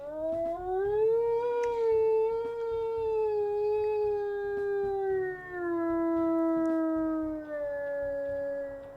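A single long wolf howl from the video game WolfQuest rises, holds, and slowly falls over several seconds, loud and clear, with a short dip before it continues on a slightly lower pitch.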